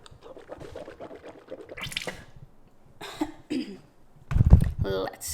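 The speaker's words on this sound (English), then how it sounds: "Let's spit into tubes." Someone spits saliva into a small collection tube for a saliva test after rinsing the mouth with water, giving wet sputtering and hawking sounds mixed with throat clearing, close up, amid intermittent talk.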